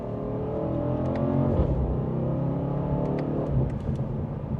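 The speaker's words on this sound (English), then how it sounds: "if we put it into Sport Plus here, you can hear pops in that exhaust" A 2025 BMW M850i xDrive Gran Coupe in Sport Plus mode rumbles under steady engine drone, with a few sharp exhaust pops and crackles breaking through near the middle and toward the end.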